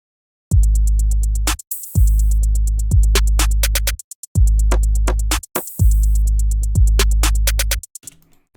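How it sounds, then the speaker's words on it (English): Punchy drum loop of deep booming kicks with snappy hits and crisp hi-hats, repeating in a steady two-bar pattern, loud and alone. "All of the percussion together."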